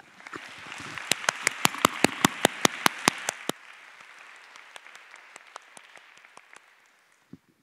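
Close, loud hand claps in a quick, even rhythm at a Holden Start 2020 talk, then thinning into slower, softer claps before a final lone clap.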